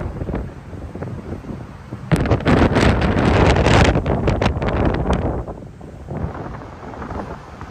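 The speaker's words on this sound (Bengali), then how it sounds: "অনেক বেশি বাতাস, বাতাসের স্পিড আনুমানিক 50 কিলোমিটার/আওয়ার।" Strong wind of roughly 50 km/h roars across the deck of a ship at sea at dusk, buffeting the microphone in a loud, rushing surge that swells mid-way and then eases to a steadier blow.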